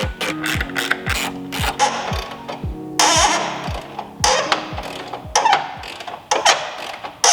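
The manual door release on a Lamborghini Aventador Roadster gives a rapid series of clicking, ratcheting mechanical sounds with creaks and clunks. It is loud and close, with no voices.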